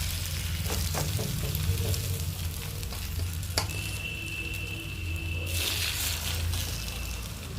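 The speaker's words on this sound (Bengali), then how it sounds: "এবার ওই মিশ্রণটা থেকে অর্ধেকটা মা প্যানে দিয়ে দেবে।" A cabbage omelette egg mixture fries in mustard oil in a pan, giving a steady close sizzle and crackle with brief scraping and stirring taps throughout.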